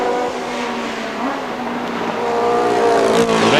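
Formula One cars racing at the 1970 British Grand Prix at Brands Hatch, loud close engine howls with rising and falling pitch as cars pass and rev, heavy and continuous.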